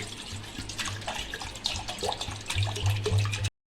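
Tap water runs in a steady, close stream for tamarind water for pani puri, a continuous rushing splash that cuts off abruptly at the end.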